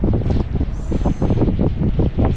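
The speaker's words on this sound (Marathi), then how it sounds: "केस उडवले वाऱ्याने" Strong wind buffets the microphone on the deck of a cruise boat off Goa, a loud, gusty low-frequency rumble that swells and drops in uneven pulses throughout.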